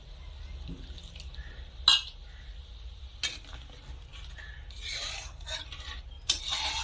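A spoon scrapes and stirs spice paste loosened with a splash of water in a pot over a high flame, with a few sharp metallic knocks against the rim and a soft wet swishing between them.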